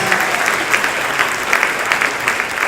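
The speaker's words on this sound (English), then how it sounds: "Give him a big round of applause." A big round of applause for Dr. Butcher from a crowd at an evening comedy benefit, dense loud clapping sustained evenly throughout.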